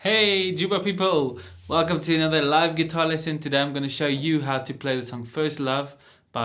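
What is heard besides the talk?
No everyday noises stand out.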